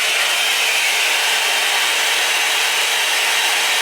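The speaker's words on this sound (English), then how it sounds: "I'm just going to blow dry it a bit." A hair dryer blow-drying a wig: a loud, steady, close rush of blowing air that holds constant throughout, with no talking.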